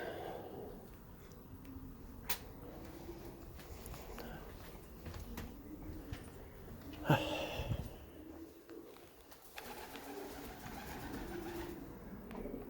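Soft, low cooing of pigeons in the distance at Kenilworth Castle, with faint rustling and scattered clicks; a brief louder call rises near the middle.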